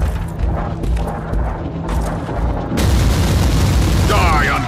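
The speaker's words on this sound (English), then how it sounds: "The Marauder bombers are launching a second wave of bombardments" Booming bombardment explosions from Marauder bombers in the video game Warhammer 40K: Inquisitor - Martyr, a dense rumbling barrage that swells louder midway, with dialogue over it.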